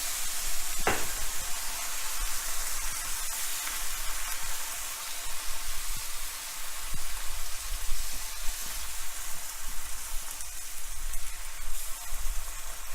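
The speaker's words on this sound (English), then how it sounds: "Let that alcohol burn off, boil off" A cup or so of wine bubbling and simmering off in a pan of French chicken stew, a continuous soft hiss and sizzle with a faint clink early on and light stirring sounds.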